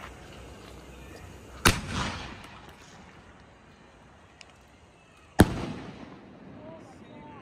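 Two sharp, loud firecracker bangs for Diwali burst about four seconds apart, each with a short crackling tail, over a low outdoor background with no talk.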